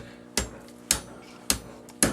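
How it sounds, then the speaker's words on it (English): Hot metal hammered on an anvil while forging a decorative heart: four sharp, loud ringing strikes spaced about half a second apart, each with a brief metallic decay, no voices. "You put about an inch over top of it, hammer it down, and fold it back in."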